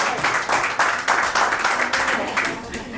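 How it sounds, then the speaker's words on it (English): A comedy-show crowd of men claps for the women in the audience, a dense rolling patter of hands with voices mixed in over the clapping. "Fellas, clap for these ladies."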